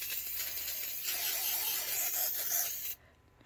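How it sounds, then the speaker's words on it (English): Close, steady hiss of a spray bottle misting moss in an isopod enclosure for about three seconds, then stopping abruptly. "we are going to give our moss a little spray down"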